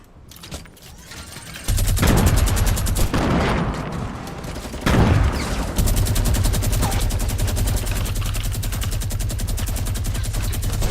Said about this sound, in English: Another team firing from somewhere.